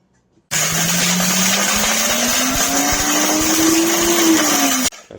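A countertop blender grinds dried bones into bone meal, a loud steady whir running about four seconds with a gradually rising motor pitch and a rattling grind throughout, then cutting off abruptly.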